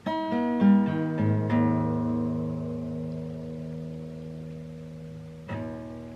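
Acoustic guitar strums a series of chords, several quick attacks early on, then a long ringing chord that fades before one more strum near the end.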